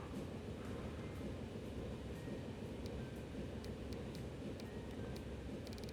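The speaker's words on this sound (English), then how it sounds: "And we'll buy a train." Train running in Transport Fever 2, a steady low rumbling roll of rail travel with faint high clicks of game interface sounds scattered over it, no voices.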